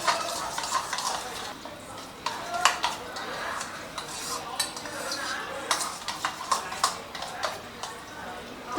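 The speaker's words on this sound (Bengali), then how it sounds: "আর 2 চামচ মেয়োনিজ। তো এটা দিয়ে ভালো করে মিশিয়ে একটা সস রেডি করে নিচ্ছি।" A spoon scrapes and clinks against a bowl while mayonnaise is mixed into a sauce, a busy run of close, irregular metallic ticks and scrapes that continues without pause.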